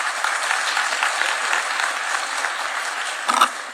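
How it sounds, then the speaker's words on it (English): Audience applause fills a summit hall in Nairobi, a dense, steady wash of many clapping hands held at an even level throughout, slightly distant, with no voices over it. "Another round of applause for Professor Patrick."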